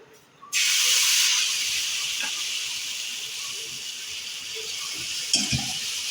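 Jaggery batter hits a hot iron griddle with a sudden loud sizzle that settles into a steady, bright hiss, with a few faint clinks late in the clip.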